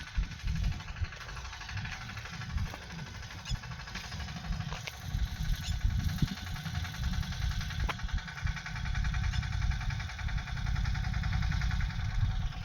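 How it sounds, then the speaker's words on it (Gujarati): A tractor engine rumbles at a farm field, a low, steady mechanical drone that grows slightly louder toward the end as it comes closer, with faint clinks over it. "એ ટ્રેક્ટર લઈને આ બાજુ હાલ્યા આવે છે"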